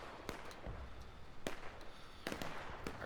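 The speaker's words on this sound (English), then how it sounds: "Artillery" Civil War artillery cannon fire in the War of Rights video game on the Antietam map, a few sharp booming blasts spaced irregularly over a low ambient rumble, fairly faint.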